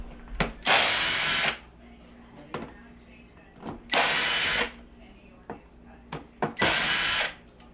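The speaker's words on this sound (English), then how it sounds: "I'm going to remove the screws down the side of the front panel and along the top to take the unit out" A power drill works screws out of a dishwasher front panel, running in three loud bursts of roughly a second each, separated by quieter clicks and handling noises.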